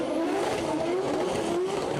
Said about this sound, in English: By the sound of it, it's Marko Zakoril warming up tires behind me.